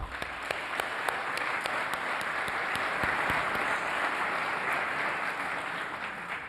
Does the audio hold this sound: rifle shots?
no